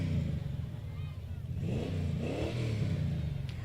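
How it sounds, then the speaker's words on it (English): A high-performance car engine revs in a town street during a parade, a rough mid-pitched roar rising and falling in two surges, close and loud, with people talking faintly underneath. "revving up that motor just to show off"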